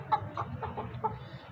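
A Golden Heavy Buff laying hen gives a short run of soft, close clucks, about five quick notes in under two seconds with no talk.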